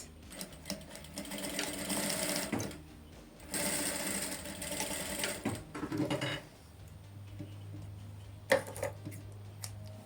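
Sewing machine stitching a hidden button placket with contrasting thread, running in bursts of steady mechanical whirring broken by short pauses, close and alone with no voices.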